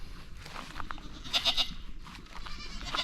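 Goats on a homestead bleat in several short, overlapping calls, moderately close over a rustling outdoor background.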